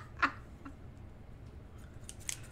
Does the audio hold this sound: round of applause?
no